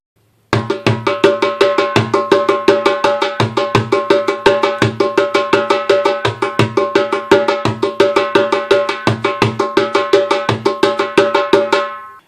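Darbuka played in a running rhythm with alternating right and left hands at even volume, a fast steady stream of crisp drum hits lasting about eleven seconds, close and without talk.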